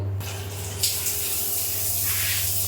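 Water runs steadily from a bathroom shower in a hotel in Port Blair, Andaman, a continuous close hiss with a low hum beneath it.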